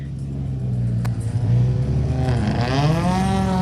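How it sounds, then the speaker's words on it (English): A classic Ford Escort rally car in Gulf livery rumbles at a hillclimb event, then its engine note swells and climbs into a loud rev from close by. "Who would have thought that a Ford Escort could sound that way?"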